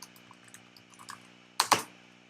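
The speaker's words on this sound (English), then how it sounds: "I pressed enter twice real quick" Quiet, light keystrokes tap on a computer keyboard, then two loud, sharp Enter presses land in quick succession near the end.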